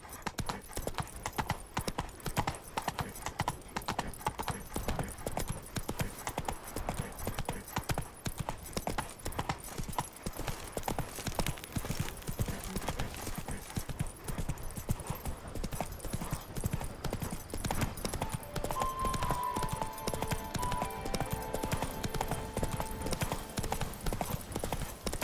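Horse hooves clip-clop in a fast steady gallop on the video game The Witcher 3: Blood and Wine, a continuous close rhythmic pounding with a brief whinny-like tone near the end.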